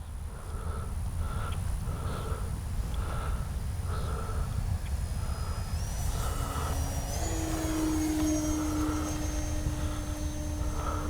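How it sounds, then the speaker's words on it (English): A Durafly FG-1 Corsair RC model plane, about 1100 mm wingspan, whines steadily overhead, its motor pitch rising as it speeds up, with faint rhythmic beeping and a constant low rumble underneath. "This is what RC plane flying is all about."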